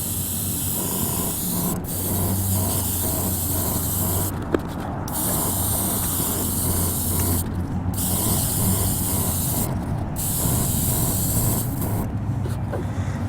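Chrome paint hissing from a spray can onto a 3D print outdoors, a loud steady spray broken by several short pauses between passes, with no talking.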